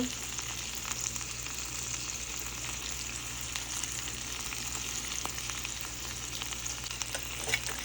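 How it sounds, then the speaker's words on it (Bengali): Food sizzles and fries steadily in a hot pan, a constant crackling hiss with occasional pops, heard close with no talking. "এখন এটাকে উঠাই ফেলবো বেশি কড়কড়া ভাজি করব না হালকা"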